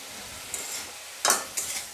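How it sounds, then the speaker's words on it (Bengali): Banana stem stirred and fried in a pan, with a soft steady sizzle broken by three short scraping stir strokes, close and fairly quiet. "গ্যাসের আঁচটাকে দিয়ে ঢেকে দেবো আর নাড়াচাড়া করে ভেজে নেব"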